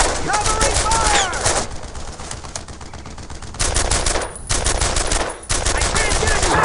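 Sustained automatic gunfire rattles in dense, loud bursts during a World War II firefight in the video game Brothers in Arms: Earned in Blood, with brief pauses between volleys and shouted voices mixed in.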